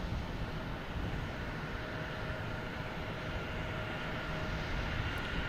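A British Airways airliner lines up on the runway at Boston Logan Airport, its engines giving off a steady, broad roar that holds evenly throughout, heard from a distance with no voices.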